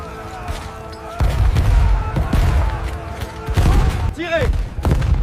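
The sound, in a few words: cannon and gunfire in a battle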